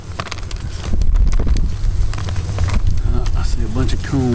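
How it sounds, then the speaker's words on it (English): Gusty wind roaring outdoors beside an elevated house, a loud steady rush with buffeting under a voice. "the wind is kicking"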